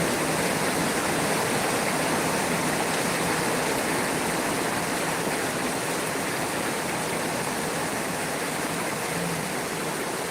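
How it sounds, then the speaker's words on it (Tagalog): Torrential typhoon rain (Typhoon Nando) roars without letup, a thick, even wash of hissing water that stays loud and close throughout. "Lakas ng ulan talaga."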